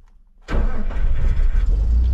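A 7.3 IDI diesel engine cranks and catches abruptly after a quiet moment, then settles into a loud, close, rough idle.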